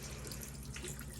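Running water rinsing a dog named Bart during a bath, a steady soft splash and trickle at close range, faint and continuous.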